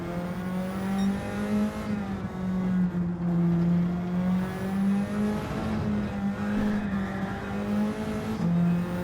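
A race car engine in Gran Turismo 7 drones steadily with its pitch rising and dropping as the driver brakes, shifts down and revs back up, loud and continuous with a few brief tire squeals and no voices.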